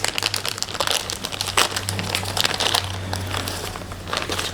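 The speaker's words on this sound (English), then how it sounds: "So I'm just gonna very carefully just cut the plastic" A plastic bag crinkles and rustles in quick irregular crackles, close up, with faint snips as the sheet is handled and cut; no talking.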